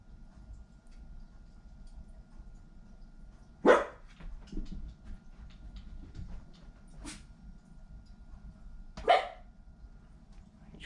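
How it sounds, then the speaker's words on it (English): A dog barks two or three separate times, each sharp and distinct, with long quiet gaps between over a low, steady background hum. "What you woofing at?"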